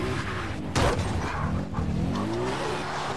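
A quad bike engine in the video game Far Cry 3 revs and whines, rising in pitch with a brief burst of noise, heard over continuous in-game background sound.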